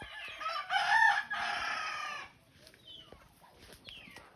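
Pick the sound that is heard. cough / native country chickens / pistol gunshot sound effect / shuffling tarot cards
native country chickens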